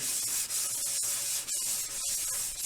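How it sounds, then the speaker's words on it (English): Continuous close rubbing and scrubbing as a frying pan is wiped down after cooking chorizo, with a few brief pauses between strokes. "wipe down our frying pan"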